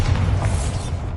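A Bombarda blasting spell goes off in Hogwarts Legacy, a single dull booming explosion with a low rumble that fades within about a second.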